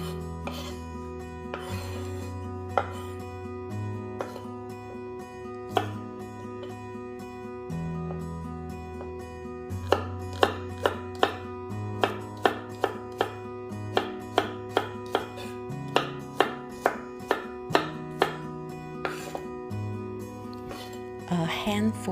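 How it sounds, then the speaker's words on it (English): A knife chops chicken thighs into medium portions on a cutting board, a run of sharp, fairly regular taps that quicken midway, heard under background music. "I like to cut them into medium-sized portion since they are going to be"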